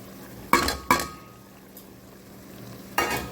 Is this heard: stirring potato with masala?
yes